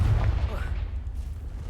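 A Confringo fire spell blast in Hogwarts Legacy lands as a heavy, close booming burst with a deep rumble that fades out over a second or so.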